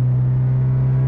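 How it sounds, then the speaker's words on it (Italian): A 1998-2005 NB-generation Mazda MX-5 roadster engine is being run up, giving a loud, close, steady droning hum that holds at one pitch for the whole short stretch with no voices. "voglio sentirla cantare, tiriamola un po', senti come si apre"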